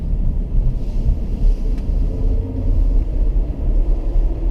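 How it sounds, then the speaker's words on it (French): A car driven through a cone course on a track during a lapping session gives a low, steady engine rumble with swelling and easing throttle, heard close and continuous without talk. "On conduit le véhicule"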